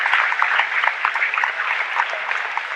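Audience applause at a school sports awards assembly, steady dense clapping from many hands throughout, fairly loud with no talking over it.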